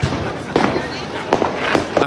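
Fireworks exploding in a Berlin street during a chaotic night, with several loud, sharp cracks and bangs in quick succession over a constant roar of crowd noise and shouting.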